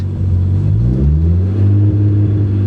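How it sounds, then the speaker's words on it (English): A Toyota Supra engine revs unevenly with a rough, stumbling misfire rumble, loud and close, its pitch climbing and dipping. "it revs, it's misfiring."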